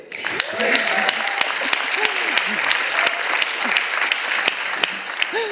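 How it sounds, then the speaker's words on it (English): A crowd applauds at the Seattle mayor's State of the City address, steady dense clapping with a few whoops and cheers rising above it. "You should have held your applause"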